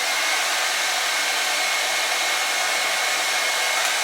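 A hair dryer set to high heat and low fan blows a steady, even airy hiss from start to finish, close and unchanging, with no other sounds.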